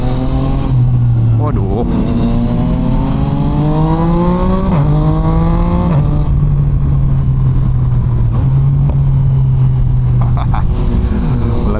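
A Yamaha MT-09 motorcycle engine revs up and down repeatedly, loud and close, with rising and falling pitch and crackling exhaust pops between revs; a voice exclaims briefly.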